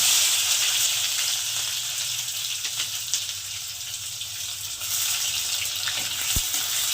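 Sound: chopped onions frying in oil

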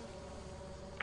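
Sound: bees buzzing at a beehive in the video game Lethal Company

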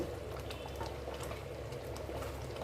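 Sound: curry gravy boiling in a pot

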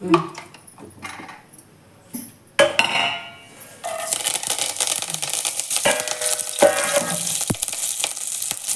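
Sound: curry leaves lightly frying in oil

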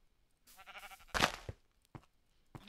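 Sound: sheep bleating in Minecraft video game

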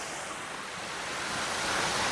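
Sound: water falling and gurgling in a forest stream

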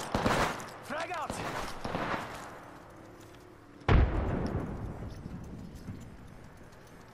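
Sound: grenade explosion and gunfire in a video game

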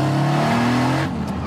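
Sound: 900 horsepower street car driven at light throttle

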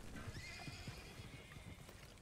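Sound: horse whinnying in video game Red Dead Redemption 2

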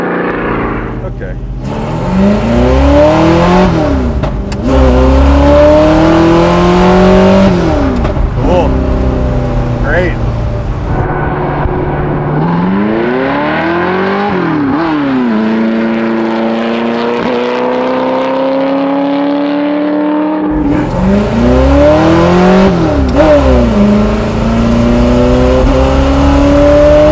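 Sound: 600HP widebody De Tomaso Pantera accelerating hard

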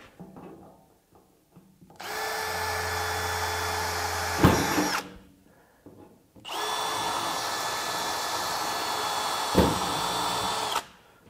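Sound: power drill drilling through plastic

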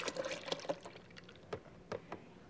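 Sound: pouring milk for a milkshake

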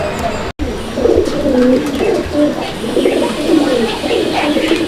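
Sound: pigeon cooing in its cage

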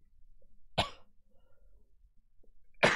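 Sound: cough picked up by microphone

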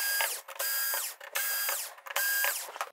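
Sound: removing screws from TCL TV LED driver board

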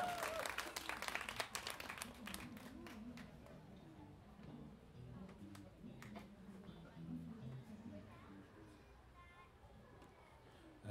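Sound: audience applause for a foreign performer

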